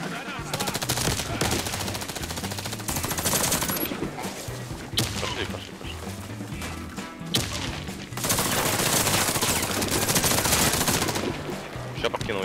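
Rapid automatic gunfire from the KAC PDW in the online shooter Warface, loud, close and sustained in long bursts with short pauses between them.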